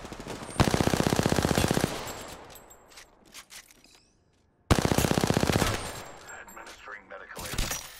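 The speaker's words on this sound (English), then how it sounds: "I'm being shot at. Getting shot." Automatic gunfire in Apex Legends erupts in two long, loud rattling bursts separated by a brief lull, with scattered shots and game effects between them.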